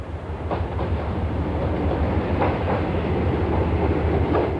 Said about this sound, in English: Trains click to and fro over the points on the way in.